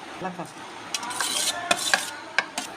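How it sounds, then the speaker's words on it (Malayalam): A spoon scrapes and clinks against a bowl while crushed coconut and ground chicken are mixed together for a Kerala-style chicken chammanthi, with close, irregular stirring strokes and sharp metallic taps. "ഇനിയും തേങ്ങായും ഈ ചിക്കനും കൂടെ നന്നായിട്ടൊന്ന് മിക്സ് ചെയ്യണം"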